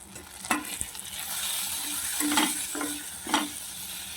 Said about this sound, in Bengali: রসুনটা আমার ভাজা হয়ে গেছে দিয়ে দেবো কিছু কাঁচা লঙ্কা আর গেট করে রাখা একটু আদা দিয়ে দেবো